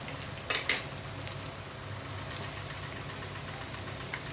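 Home-made masala and garlic sizzle with chicken frying in a pan over low heat, a steady soft crackle with a couple of brief louder spatters near the start.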